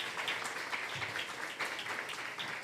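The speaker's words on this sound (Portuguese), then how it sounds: "Por favor, palmas para os visitantes." Applause from church visitors and congregation gathered in a room during a service, a steady dense wash of many hands clapping at moderate, even loudness without break.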